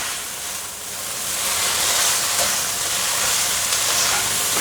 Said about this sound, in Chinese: 继续翻炒。